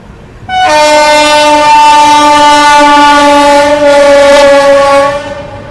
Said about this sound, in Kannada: ಅಲ್ಲೊಂದು ಟ್ರೈನ್ ಕೂಡ ಬರ್ತಿದೆ ನೋಡಿ.